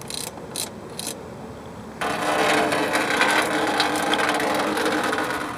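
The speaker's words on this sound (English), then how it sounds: "so just get your ratchet on here, 3/4 of an inch, crack it loose" A 3/4-inch ratchet cracks loose the radiator drain petcock on a car's cooling system, with a few brief clicks of the pawl followed by a steady, louder mechanical grinding and rattling close by, no talking.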